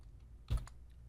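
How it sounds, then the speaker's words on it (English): A short burst of keystrokes on a computer keyboard while entering uppercase text in design software, one brief cluster of clicks over low background hum. "We're going to type in all uppercase"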